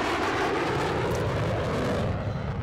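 Jet aircraft in a competitive multiplayer combat video game roars steadily, a dense, loud rushing engine blast that holds without a break and eases slightly at the end.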